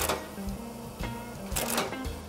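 A saddle stitching machine stapling book pages in a print shop bindery cycles rhythmically, with regular mechanical thumps roughly every half second over a steady machine hum.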